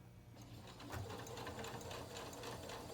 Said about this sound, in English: I have a reverse button on my sewing machine that's right here.